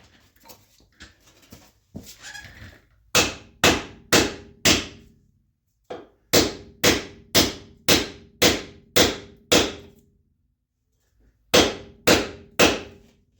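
A hammer taps a wheel bearing into a Dana 60 axle on a salt-belt rig: loud, close metallic strikes in bursts of about five, then eight, then three, after some quieter rattling.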